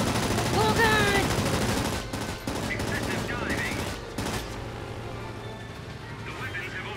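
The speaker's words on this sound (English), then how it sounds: "Who's shooting at me?" Machine-gun fire aimed at the player's plane in World of Warplanes, rapid bursts under a constant aircraft engine drone while a voice talks excitedly over the action.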